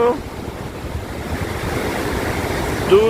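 The swollen Godavari river in Nashik rushes after heavy rain, a loud, continuous broadband roar of churning water with some wind buffeting on the microphone.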